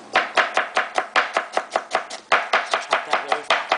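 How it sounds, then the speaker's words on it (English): Knife chopping food finely on a cutting board, a quick even run of about sixteen sharp, close, loud strokes with no talk. "Just chop that really fine."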